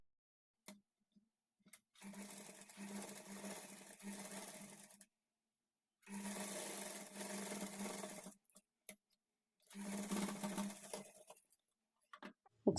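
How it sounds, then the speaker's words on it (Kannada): A sewing machine stitches the folded-in strip along the edge of a blouse front in three separate bursts of steady whirring, each about two seconds long, with short quiet pauses between them. "ಈಗ ಈ ಪಟ್ಟಿಯನ್ನು ಒಳಗಡೆಗೆ ಫೋಲ್ಡ್ ಮಾಡಿಕೊಂಡು ಈ ಕಡೆ ಎಡ್ಜಿಗೆ ಸ್ಟಿಚ್ ಮಾಡ್ಕೊಳ್ಬೇಕು"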